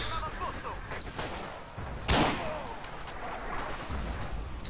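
Gunfire in the Forgotten Hope 2 multiplayer war game, set in the Giarabub desert battle, with one loud sharp shot standing out midway over a steady battlefield rumble and scattered distant reports, and muffled voices underneath.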